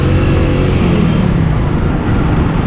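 Moving traffic on a Delhi road, heard from within the flow, a loud continuous rumble of engines and tyre noise with a car passing close by early on.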